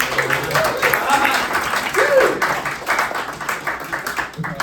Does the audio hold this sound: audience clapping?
yes